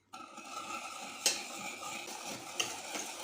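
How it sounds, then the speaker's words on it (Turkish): A spoon stirs a starch and flour mixture for milk pudding in a bowl, a soft swishing with two sharp clinks against the side, close and quiet. "Şimdi iyice karıştırayım."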